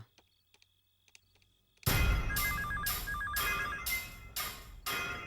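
A telephone rings in repeated electronic bursts, loud and close, following a quiet stretch of faint ticking; the rings continue in a steady rhythm with no talk over them.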